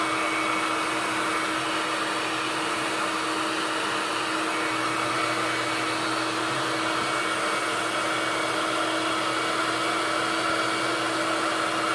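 A hair dryer blows steadily at close range, a constant loud whirring rush with a faint hum underneath. It runs unbroken and no one speaks.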